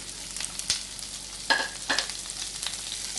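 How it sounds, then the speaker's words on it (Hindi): Onions and capsicum tossed in a hot pan, a close sizzle punctuated by a few sharp scraping spatula strokes and bursts of louder frying as the vegetables are turned. "बस टॉस करने हैं हमें अनियंस। लेस देन 30 सेकेंड, 1-2 बार हिलाना है। और साथ ही मैं डाल दूँगी कैप्सिकम"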